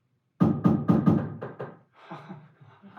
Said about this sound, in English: I think I hear someone at the door.